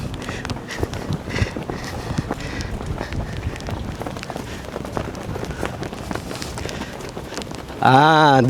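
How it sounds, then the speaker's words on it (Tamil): Strong wind blows across the Langkawi Sky Bridge in Malaysia, buffeting the microphone with a continuous low roar and rumble, and a voice cuts in briefly at the very end. "காற்று பயங்கரமாக அடிக்குது."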